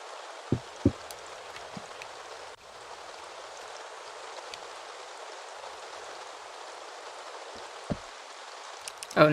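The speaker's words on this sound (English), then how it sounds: "the rain in Staxel is absolutely, like, gorgeous" Steady, soft rain hisses evenly throughout in the Staxel video game, with a few brief clicks and taps near the start and end, and no talking.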